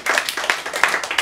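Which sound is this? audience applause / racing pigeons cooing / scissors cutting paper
audience applause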